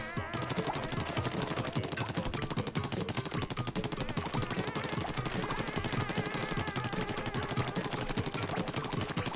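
In Splatoon, an opponent's ink weapon fires a dense, continuous rapid burst of shots that stays loud and steady throughout.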